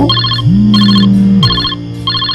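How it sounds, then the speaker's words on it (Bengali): A phone ringtone chimes in repeated bursts of high electronic tones, with a sustained lower tone sounding between them; loud and close, no voices. "ফোনটা বেজে উঠল"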